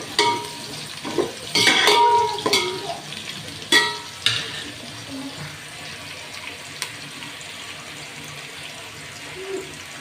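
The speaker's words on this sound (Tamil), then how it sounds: "அடுத்து ஒரு 4 பச்சை மிளகாய் சேர்த்துக்கோங்க. அதையும் லேசாக வதக்கிக்கோங்க." Green chillies sautéed and stirred in a pan while making traditional coconut milk rice: soft sizzling with a few scraping and clinking utensil hits early on, then a steady low frying hiss, close by.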